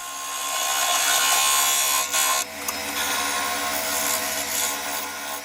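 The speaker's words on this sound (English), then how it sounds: "Just doing a shear cut with the spindle gouge there." A spindle gouge makes a shear cut on a yew goblet spinning on a lathe, a steady loud whirring hiss with a brief dip as the tool shifts.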